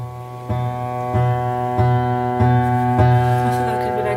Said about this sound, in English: a rubber mallet hitting an exposed string underneath the piano